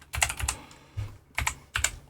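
A computer keyboard typed in quick bursts while entering a COUNTIF function in a spreadsheet: a rapid cluster of close, crisp keystrokes, a short pause, then two more brief bursts of clicks. No one speaks.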